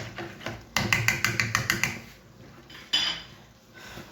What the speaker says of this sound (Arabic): نخلط جيدا هيك دقيق ابيض